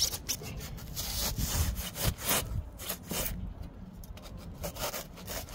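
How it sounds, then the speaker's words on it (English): A manual hand saw rasps through excess foam during a chicken run renovation, giving a steady run of repeated back-and-forth strokes that stay close and fairly loud across the whole stretch, with no talking. "we are going to take the excess foam off just by sawing it off with a manual saw"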